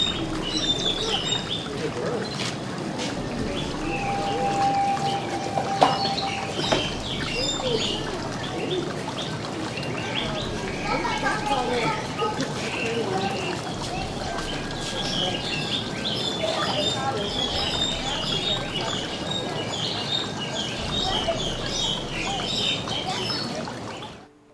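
Birds chirp and coo in a jungle-themed aviary walk at Disney's Animal Kingdom, with scattered tweets and calls over a steady background murmur, likely with trickling water and a voice speaking at times.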